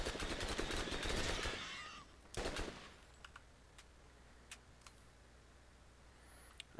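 Turret gunfire in the video game Borderlands: a dense, loud burst of rapid shots for about two seconds, a second short burst, then scattered single sharp reports against a quiet background hum.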